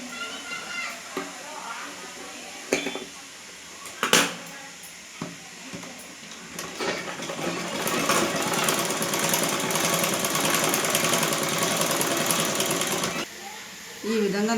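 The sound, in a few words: sewing machine stitching a blouse back neck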